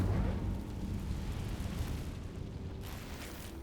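Incendio fire spell cast in the video game Hogwarts Legacy, a loud low rumbling whoosh of flame that bursts at the start and sustains, fading slightly over a few seconds.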